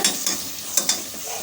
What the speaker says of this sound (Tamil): மிதமான சூட்டில் வச்சுட்டு வதக்கிக்கோங்க